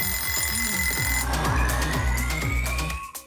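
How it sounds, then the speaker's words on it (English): A ringing alarm-clock-style sound effect rattles in rapid repeated pulses, loud and close, for about three seconds before cutting off. "add a little alarm style sound effect."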